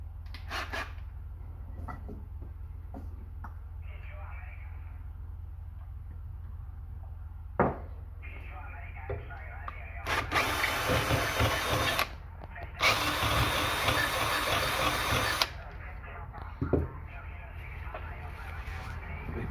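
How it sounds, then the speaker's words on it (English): Two bursts of a power drill whirring loudly while drilling out a hole for a j-pole antenna, a few seconds each with a short pause between, amid quiet clicks and handling noises. "Let me drill that out once more."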